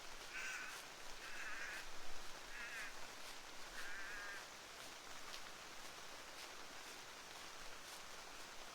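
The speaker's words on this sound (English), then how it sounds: "Is that a crow that I can hear?" A crow gives four short, harsh caws spaced about a second apart, faint and distant against a hissy room background, then falls silent for the rest of the stretch.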